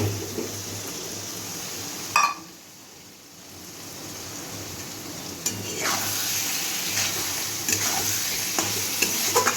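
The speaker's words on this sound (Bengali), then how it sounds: "দিয়ে ভালো করে মশলার সাথে ডিমটাকে কষিয়ে নেব।" Fried eggs are stir-fried into spice masala in a pan for egg curry: a steady close sizzle with scraping spatula strokes that briefly dips before resuming, with no voices.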